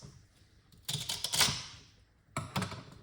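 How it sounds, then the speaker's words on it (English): A knife chops through celery ends on a cutting board in two short bursts of crisp crunching, close by, with quiet pauses between them. "cut off these little ends"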